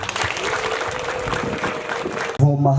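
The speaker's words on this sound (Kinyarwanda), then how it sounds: "Babaha amashyi mutarame bizima" An audience breaks into lively applause, a dense burst of many hands clapping that ends abruptly as a voice starts to speak.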